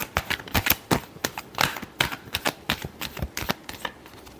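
Tarot cards being shuffled by hand, a quiet, close run of quick papery riffling snaps in an uneven, rapid rhythm, heard alone.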